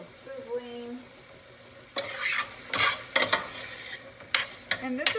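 Garlic and onions in a pan give a light sizzle broken by bursts of stirring and scraping, with a few metallic clinks, and someone speaks briefly at the start.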